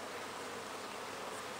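Honeybees buzz at the landing board of a hive, a faint, even, continuous hum of many insects with no voices.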